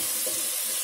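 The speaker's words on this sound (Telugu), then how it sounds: "ఇలా వేయించి అన్ని చేపలు 1-2 సార్లు వేయించేస్తే అయిపోతుంది" Fish pieces fry in hot oil in a pan for fish curry, giving a close, continuous bright sizzle with no talk.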